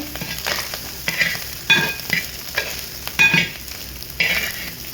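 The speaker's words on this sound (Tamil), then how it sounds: "நல்லா கிண்டி விடுறோம்." Fried rice for three portions being stirred in a pan, scraping strokes of the spatula in an uneven rhythm over a soft sizzle, close and fairly quiet, no voices.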